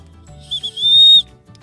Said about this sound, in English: it's got a safety whistle